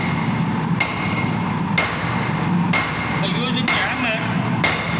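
Blacksmith's hammer strikes hot square-section nail stock on an anvil during a forging demonstration: about five loud, ringing blows spaced roughly a second apart, close by, over steady furnace and workshop noise.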